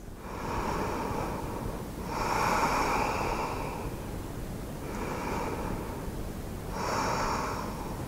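Slow, deep breathing held during a vinyasa yoga pose, heard as long airy inhales and exhales that rise and fall in a steady rhythm, close and fairly soft, with no talking.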